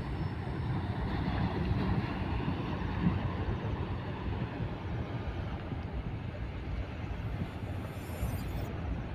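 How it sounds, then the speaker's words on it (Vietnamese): Sea waves wash near the shore behind a rocky spot, a steady, loud roar of surf blended with wind buffeting the microphone, running unbroken from start to finish. "Đấy, phía sau tôi là biển,"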